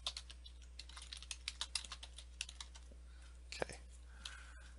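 Typing on a computer keyboard while writing a post in WordPress: a rapid, irregular run of light key clicks, close and fairly quiet, over a steady low hum.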